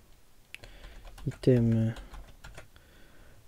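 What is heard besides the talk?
computer keyboard typing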